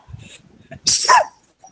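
One sharp, loud sneeze bursts out after a moment of faint background noise, close and abrupt.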